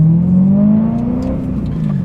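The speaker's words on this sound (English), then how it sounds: "So today we're going to be driving around in my E92 M3" A BMW E92 M3 drives on a public road, its engine droning loud and steady throughout, the pitch climbing gradually as it accelerates, with no talking.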